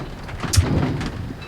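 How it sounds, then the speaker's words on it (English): Hail falls on garden plants in a brief, dense patter of icy hits, loud and close, with a rushing storm-like wash and no talking. "Look, that is hail all in my plants."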